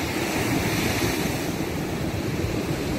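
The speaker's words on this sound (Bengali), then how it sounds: "কি সুন্দর একের পর এক ঢেউ" Ocean surf at Puri beach rolls in steadily, waves breaking on the shore one after another in a loud, continuous wash with wind noise, no voices.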